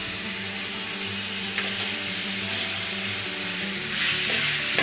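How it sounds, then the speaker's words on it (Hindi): Chicken pieces fry in a pan with garlic and ginger for parda biryani, giving a loud, steady sizzle close by, with occasional scraping of stirring and a surge of crackle near the end. "और चिकन को अच्छी तरह फ्राई करेंगे।"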